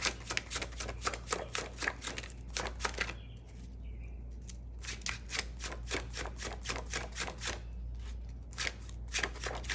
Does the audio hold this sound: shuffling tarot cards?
yes